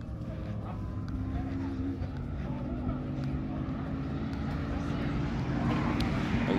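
An Audi RS3 driving past on the Lakeside Park raceway during a European car track day, a steady engine drone building slightly louder as it nears, with broadband road and wind noise throughout.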